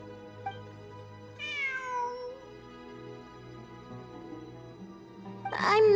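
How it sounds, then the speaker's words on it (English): A cat meows once, drawn out and clear, in the video game Genshin Impact, set against a steady ambient music drone, with a second short cry near the end. "It really is a cat."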